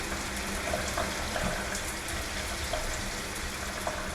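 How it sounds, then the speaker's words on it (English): Shower water runs from a low-flow head in a steady, hissing spray, fairly close and unchanging for a few seconds. "there's almost no water coming out"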